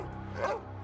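German shepherd guard dog giving a single bark or yelp at a house, brief and moderately loud, alone with no talking.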